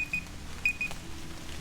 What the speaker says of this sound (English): You hear that, folks? That's a timer